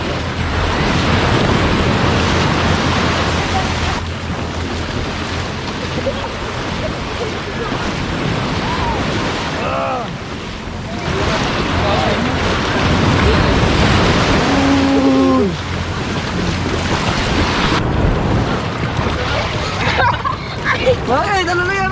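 Sea surf at Tondaligan Blue Beach, a loud, steady rush of waves with heavy wind buffeting the microphone. Voices talk and exclaim over it throughout.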